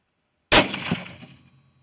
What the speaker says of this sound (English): Okay, we're at 100 yards. Let's go ahead and take our shot.